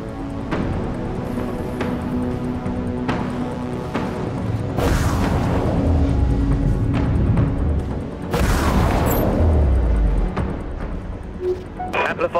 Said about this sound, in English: Catapult locked on. Launching catapult.